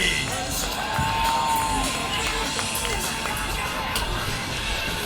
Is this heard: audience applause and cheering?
yes